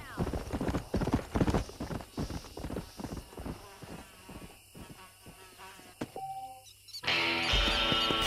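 Horse hooves clip-clopping in a steady trotting rhythm in the video game Red Dead Redemption, several animals moving together with a whinny and faint bird chirps, before the hoofbeats give way to a louder wash of game sound.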